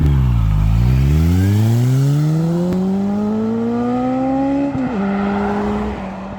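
A Suzuki Bandit GSF1200 motorcycle ridden on a road in Wales, its engine loud and close, climbing steadily in pitch as it accelerates through the gears with a brief shift near the end.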